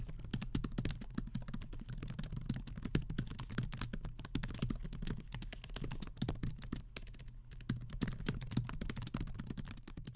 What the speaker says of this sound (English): This is probably one of my favorite laptop keyboards to type on.